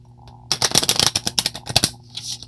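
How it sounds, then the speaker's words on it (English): A quick riffle of tarot cards being shuffled, a brisk fluttering burst up close lasting a couple of seconds. "I am slacking on shuffling these cards"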